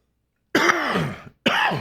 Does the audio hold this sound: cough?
yes